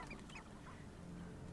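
Chickens in a Hogwarts video game make faint, honking squawks and clucks over a steady low background hum, brief and not prominent.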